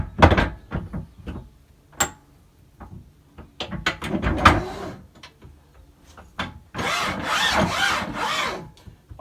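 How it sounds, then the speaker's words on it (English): A tailstock is slid back onto the bed of a Coronet Herald woodturning lathe: close metal scrapes, knocks and a grinding slide, in separate bursts with pauses, ending in a longer rough rasping stretch. "Put your tailstock back on."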